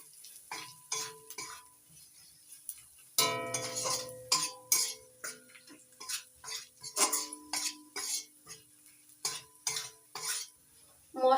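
Spices being stirred into mashed cabbage (Kashmiri red chili, turmeric and coriander powder) in a pan: a steady run of close, repeated scraping and clinking strokes of a utensil, with faint sizzling beneath and no talk.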